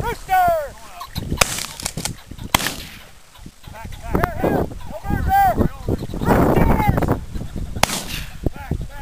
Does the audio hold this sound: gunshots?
yes